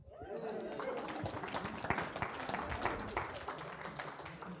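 A small audience claps after a reading of Edward Lear's nonsense poem, giving a brief scattered round of applause mixed with chatter and a speaking voice.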